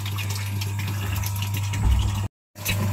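Steady rushing and splashing of water pouring into a koi pond, loud and close with a low pump-like hum beneath, cutting out briefly near the end before resuming.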